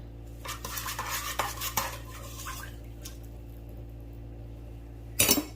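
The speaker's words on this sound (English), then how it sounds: "And then mix it up a little bit just to make sure it's incorporated." A metal utensil stirs sugar into bread dough ingredients in a bowl, with a quick run of scraping clinks and taps up close, then a quieter pause and a final burst of clatter.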